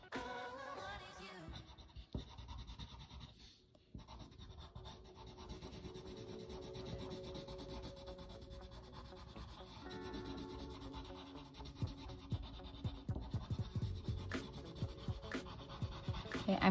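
Brown colored pencil pressed down hard on paper while drawing, a close, quiet, steady scratchy rubbing of strokes that runs throughout with small ticks and no talk over it.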